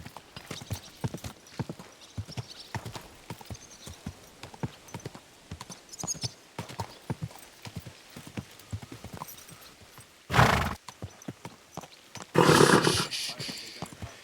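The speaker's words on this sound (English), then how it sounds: "Easy, good horse." Horse hooves clip-clopping at a steady walking rhythm while riding in the video game Kingdom Come Deliverance 2, close and clear, with two louder bursts of movement noise near the end.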